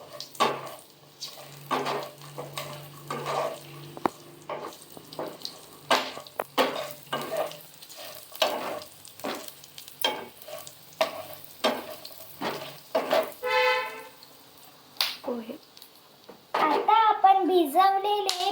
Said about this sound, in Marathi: आता आपण याला ढवळून घेऊ